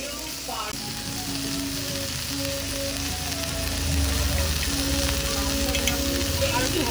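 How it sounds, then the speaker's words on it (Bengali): Spiced, masala-coated chicken fries on a tawa griddle at a food stall at a fair in Chinsurah, making a continuous loud sizzle with scraping stirs. A faint hum and crowd murmur sit underneath. "চিকেনগুলো পুরো মশলা মাখানো আর একদম তাওয়াতে ভাজা হচ্ছে"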